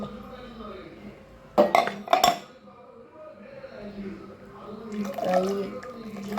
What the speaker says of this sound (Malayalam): നമ്മൾ ഈ വെള്ളം ഒഴിച്ച് കൈയിട്ടൊക്കെ ഈ ഒലമ്പി എടുക്കുമ്പോൾ